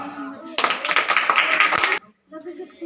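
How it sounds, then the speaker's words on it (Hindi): Children clapping together in a classroom during a maths lesson on angles, a burst of quick close claps lasting about a second and a half before stopping abruptly, with faint voices around it. "हाँ ताली भैया"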